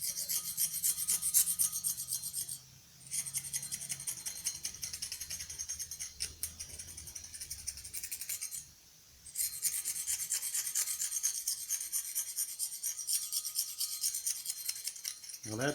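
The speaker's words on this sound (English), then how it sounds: "taking a little knife and scraping off the highest stuff" A small knife scrapes rust off a Schwinn Stingray bicycle part, making a continuous close rasping scratch in rapid strokes, broken by two short pauses, with no voices over it.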